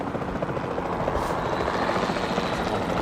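A capture team helicopter from Jurassic World Evolution 2 flies steadily overhead, its dense rotor thrum and engine whine continuous and fairly loud throughout, with no one speaking.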